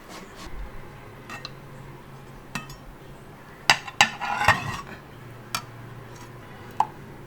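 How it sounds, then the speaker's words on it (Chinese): A knife cuts through pan-fried French foie gras on a board, giving a few sharp clinks and scrapes around the middle and near the end against a quiet, low room background. "稍微切厚点哈。"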